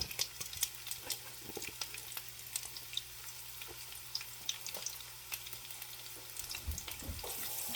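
Garlic sautéing in a hot, oiled pan for garlic mashed potatoes crackles and sizzles steadily, with quick pops and spits scattered over a low, continuous frying hiss, fairly quiet and close with no talking.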